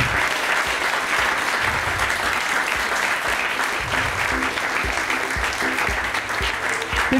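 An audience at a U20 poetry slam applauds the jury with dense, sustained clapping that fills the room, loud and continuous, with faint crowd noise underneath.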